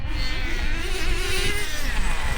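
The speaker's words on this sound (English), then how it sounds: "Sickening nitro racing going on." Nitro-powered Associated TC3 RC cars racing on a track, their small engines whining and buzzing continuously at a distance, pitch rising and falling as they pass.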